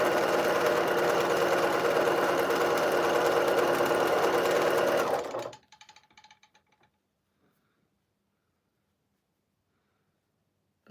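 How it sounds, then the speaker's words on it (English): A domestic sewing machine stitches a quilt at steady high speed, a dense whirring drone for about five seconds before stopping abruptly, followed by faint clicks and near silence. "Believe it or not, this sewing machine will even go faster"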